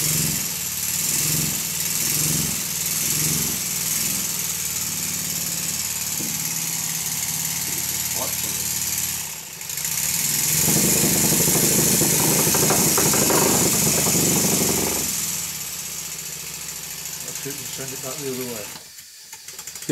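A small model engine on a workbench, with a loose reversing lever and drop arm, runs with a fast rhythmic mechanical chatter. It continues steadily and close, briefly dips near the middle, rises again, then cuts out near the end.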